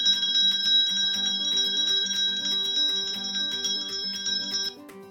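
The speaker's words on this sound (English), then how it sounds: "It is a bell." A bright, sustained bell tone rings steadily over a repeating tinkling pattern, fairly loud and continuous, fading slightly near the end.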